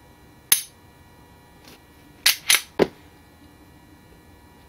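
Dry-fire trigger pulls on a Kahr CW9 9mm pocket pistol, heard as a single sharp metallic click followed by a quick cluster of three clicks, close and crisp against a quiet background.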